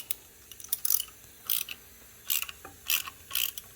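A ratchet tightens a valve spring compressor on a boosted Mustang's cylinder head, with clusters of quick metallic clicks separated by short pauses, close and fairly quiet.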